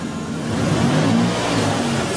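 A 2000 Lexus RX 300, being checked for a no-start fault, revs up close and loud, the engine rising briefly and then holding a raised, steady whir with no talking.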